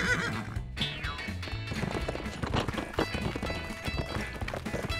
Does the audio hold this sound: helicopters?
no